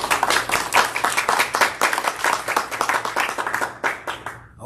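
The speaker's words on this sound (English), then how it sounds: "give them a round of applause for being here" Audience at a candidate forum clapping for the candidates who showed up, brisk steady applause from a modest crowd that tapers off near the end.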